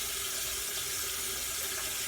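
Tap water runs steadily into a sink to rinse makeup brushes, a continuous close hiss with no talk.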